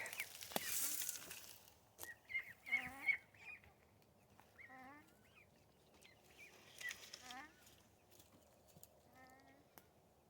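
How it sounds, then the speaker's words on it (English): Several short, squeaky quacks from young ducks, scattered and fairly quiet, with faint background rustling. "These guys are starting to quack."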